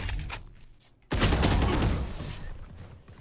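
Gunfire in the tactical shooter game Valorant: a sudden loud burst of rapid shots cuts in about a third of the way through and rings on with decaying echoes, following quieter game sounds.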